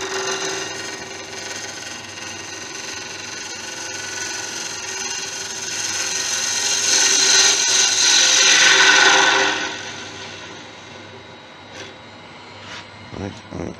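Wood is worked on a lathe during woodturning, with a steady rasping, rubbing tool-on-wood sound on a spinning Acacia or Monkey Puzzle piece that builds louder midway, then stops and leaves a few light knocks near the end.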